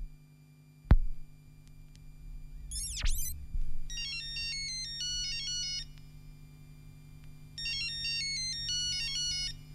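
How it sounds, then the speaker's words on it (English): A mobile phone ringtone chirps during a pirate radio show, two bursts of a bright, repeating electronic melody over a steady low hum, with a couple of sharp clicks and blips beforehand. "Renegade just give me a phone call on M71."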